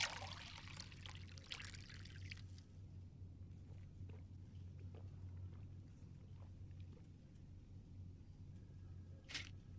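A cup filled with water in the Fahrenheit (Indigo Prophecy) video game, a faint trickling pour at the start over a low ambient hum, followed by quiet clinks and a final clack.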